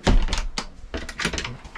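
A few solid wooden thunks close by, like a drawer sliding shut and knocking into place inside a Hilux 4x4 motorhome, with short gaps between them.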